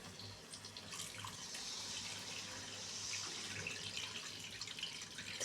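Tamarind water pours into a pan of frying fish curry, a faint continuous liquid splash and trickle running steadily throughout, close and quiet.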